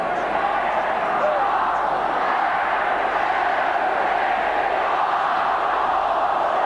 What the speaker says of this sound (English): The crowd counting down the last 5 seconds.